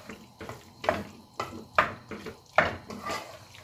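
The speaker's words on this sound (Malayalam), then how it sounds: "നന്നായിട്ടൊന്ന് മിക്സ് ചെയ്യുക" A spoon scrapes and stirs salted, already-cooked cauliflower, carrot and green peas in a metal pan for pav bhaji, in a steady rhythm of about four or five close, clattering strokes, with no talk.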